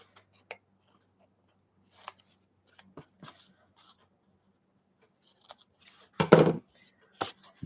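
Scissors snip along paper while someone trims a tab for a turtle-shaped paper envelope: a few soft, sparse clicks at first, then a louder crisp burst of cutting toward the end, close and quiet otherwise.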